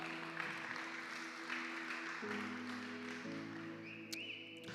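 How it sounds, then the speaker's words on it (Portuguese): Audience clapping at a church talk, a steady, fairly quiet round of applause lasting a few seconds over a sustained keyboard-like tone. "Vamos aplaudir o Mateus aí"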